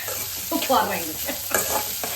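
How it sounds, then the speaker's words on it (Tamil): Onions frying to golden brown in a pan for pepper chicken, a close, continuous sizzle with a few quick stirring scrapes over roughly two seconds, no speech. "இந்த வெங்காயம் வந்து நல்லா கோல்டன் ப்ரௌன் வதங்குது."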